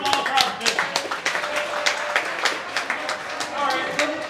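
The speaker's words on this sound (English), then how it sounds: "Everybody give me a round of applause for our business" A small audience at a high school football coach's show gives a round of applause, sharp scattered hand claps that come in uneven bursts, with voices talking over and between them.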